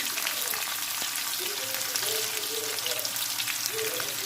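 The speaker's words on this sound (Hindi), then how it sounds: "एक छोटी प्याज मैंने स्लाइस की है और इसे हम लाइट गोल्डन करेंगे" Sliced onion frying in a pot while cooking nihari, a steady broadband sizzle with faint scraping stirs, while a voice murmurs low in the background.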